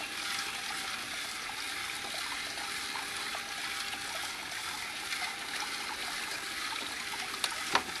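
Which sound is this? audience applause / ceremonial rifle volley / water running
water running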